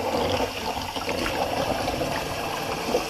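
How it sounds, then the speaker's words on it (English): Water drains from a sink in a continuous gurgling, trickling rush that stays steady and fairly close from start to finish. "Just going to empty the sink real quick"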